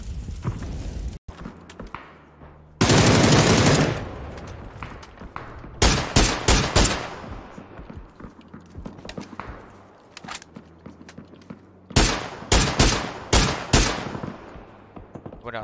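Gunfire and cannon blasts from a video game battle: a long loud barrage early on, then repeated sharp clusters of shots in bursts of several, near and prominent, with no talk over them.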